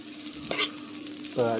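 Food sizzles in a pan in a short burst of steady frying hiss, broken by two quick stirring scrapes, close by with no talking.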